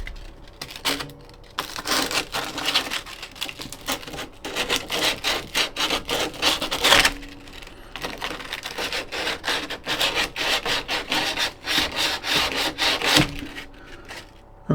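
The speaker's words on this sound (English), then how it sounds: "this is kind of awkward and tedious to sand" Sanding a wooden sliding spice rack from an RV: rhythmic back-and-forth rasping strokes in bursts, close and fairly loud, with brief pauses between runs.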